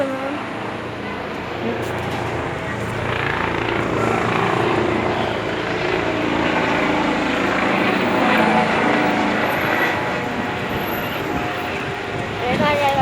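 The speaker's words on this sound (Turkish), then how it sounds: "Bakalım helikopter geliyor." A helicopter's rotor thrum builds steadily louder as it draws nearer, a broad whirring roar filling the scene with no one speaking.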